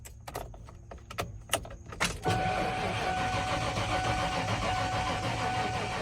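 A stock 1994 Ford F-150 pickup has its key turned: a few sharp key jingles and clicks, then the gas engine cranks, catches and settles into a steady, close idle with no talking.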